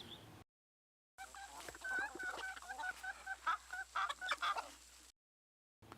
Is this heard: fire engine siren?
no